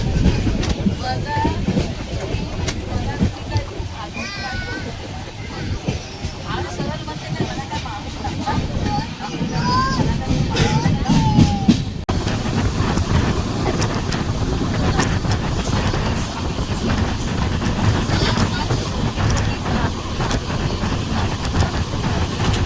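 Steady rumble of a moving train heard from inside a carriage near Ratnagiri, Konkan, with rushing wind-like noise and a voice talking over it now and then.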